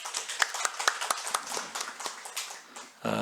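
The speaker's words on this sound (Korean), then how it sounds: "우리 박수로 격려하겠습니다." A church congregation applauds at a Sunday morning service, a dense burst of many hands clapping in the room that fades out after about three seconds before a voice resumes.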